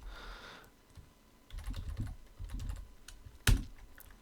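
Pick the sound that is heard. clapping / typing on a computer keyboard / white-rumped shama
typing on a computer keyboard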